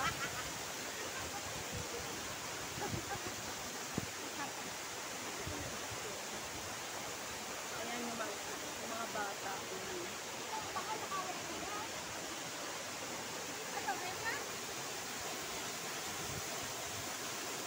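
Balagbag Falls gives a steady, dense rush of falling water that fills the whole stretch, and a few brief voices come through faintly under it.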